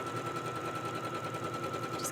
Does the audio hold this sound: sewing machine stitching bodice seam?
yes